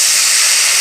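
A loud, steady hiss of vegetables hitting a hot pan already holding onion and turmeric, a brief burst of sizzling close by with no voices.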